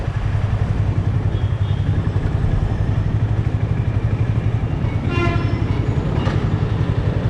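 A Hyderabad metro train runs with a loud, steady low rumble and broadband rush throughout, with a brief high tonal squeal or horn-like whine near the end.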